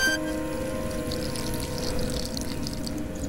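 Hot water pours steadily in a fantasy adventure game, Grimmige Legenden 3, to make tea, a continuous liquid stream with game ambience alongside for about three seconds.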